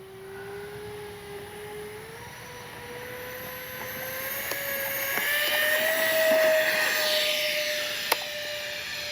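An E-flite Airbus A320 neo RC model jet flying overhead, with a steady electric ducted-fan whine that swells into a rushing roar as it passes, then eases off, with a sharp click near the end.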